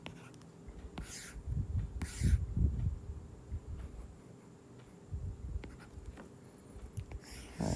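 A pen scratches across paper while sketching a graph for a maths lesson, quiet, intermittent strokes with soft rubs and pauses between them, close and faint.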